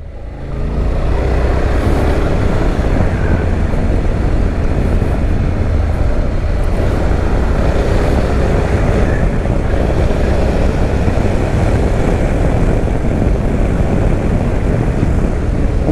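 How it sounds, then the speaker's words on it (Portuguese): A Honda X-ADV 750 motorcycle ridden hard, a steady loud engine roar under heavy wind buffeting throughout, with no talk. "Tô andando de forma esportiva com a moto,"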